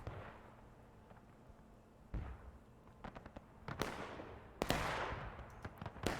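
Musket fire in a large Civil War battle in the game War of Rights, a scattered series of sharp cracks, some faint and distant and a few loud and close, echoing over a low ambient rumble.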